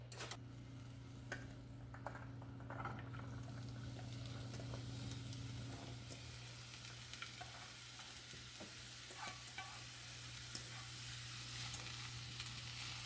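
Vegetables sauté in a little oil in a pan with a steady, quiet sizzle. Light ticks and scrapes from stirring scatter through it, and a faint constant hum sits underneath.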